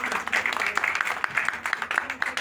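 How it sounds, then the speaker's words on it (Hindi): Applause for a retiring senior railway technician from New Delhi at a retirement function: steady crowd clapping, dense and continuous, with talk mixed in. "इनके लिए एक बार बहुत जोरदार ताली है"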